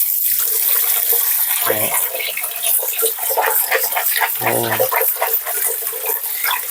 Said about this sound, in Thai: ตอนนี้แม่กำลังล้างถั่วงอก